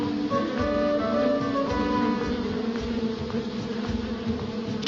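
Swarming bees in the video game Infamous give a dense, steady buzz that holds for several seconds with no voices over it.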